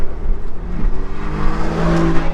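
A Mercedes-AMG accelerates past a 1997 Porsche Boxster 2.5, its engine note a steady, loud roar that rises in pitch toward the end, with no talk over it.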